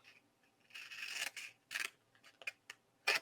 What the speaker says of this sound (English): Could have used my longer scissors on this one.